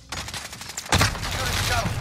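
Call of Duty Modern Warfare gunfire: a rapid run of automatic shots followed by a louder close burst and sustained battle noise, with a voice speaking over it.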